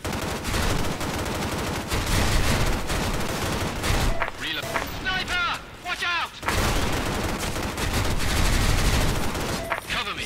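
Dense sniper and automatic gunfire in the shooter game S.K.I.L.L. SF2, loud and sustained with rapid cracks, briefly thinning in the middle before the barrage resumes.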